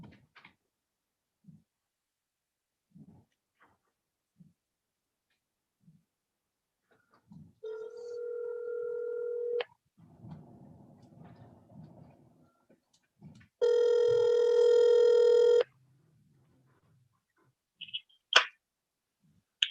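A phone call placed during a Zoom court hearing: faint clicks, then a steady dial tone, a burst of keypad dialing, and a long ringback tone, with quiet pauses between.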